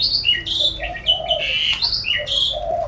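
Several birds chirp and tweet in quick, overlapping high calls, fairly close, with a steady outdoor background.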